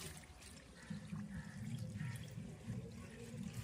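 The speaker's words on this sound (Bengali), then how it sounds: "দেখুন নিচে দিয়ে বেরিয়ে যাবে পুরো জলটা" Fungicide-laced water trickles and drains out through the bottom of a potted rose plant set in cinder, a faint, continuous dribbling and splashing that pulses gently.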